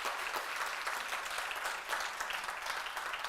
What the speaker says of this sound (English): How about one more round of applause for those wonderful women?